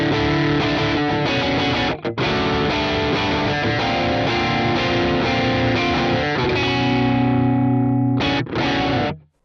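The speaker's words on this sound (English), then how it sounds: "with it dialed back, you're going to get more of a darker overdriven sound." An overdriven electric guitar runs through the Archetype: Plini X with its tone control dialed back for a darker sound. It plays a continuous, sustained phrase with a couple of brief breaks, then a short final chord, loud and solo.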